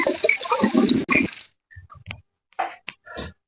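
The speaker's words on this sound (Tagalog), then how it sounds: "patutunogin natin yung gripo dito sa CR" A bathroom tap runs briefly, a gushing water burst about a second long, followed by a few short splashes and drips in a quiet room.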